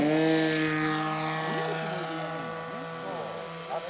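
A model airplane flies at a club competition, a steady, high-pitched small engine drone with a buzzing propeller whine, while voices talk over it.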